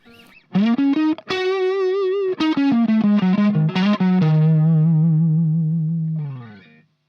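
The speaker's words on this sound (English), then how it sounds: "here's the sound of my Marshall Plexi that I'm recording with." A loud, overdriven electric guitar through a Marshall Plexi amplifier, guitar volume on 6, plays a short melodic phrase of sustained notes, ending on a long ringing note that slowly fades out.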